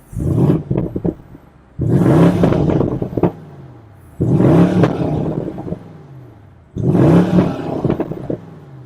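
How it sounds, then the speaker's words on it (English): A 2022 BMW M850i Coupe in Sport Plus mode, warmed up, revs its exhaust in four loud, close bursts, each with a sharp rise, a held roar and a falling tail with slight crackles. "is the exhaust note. So it does have a little bit of crackles and bangs in it still."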